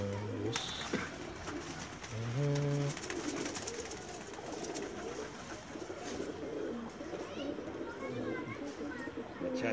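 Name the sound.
pigeon cooing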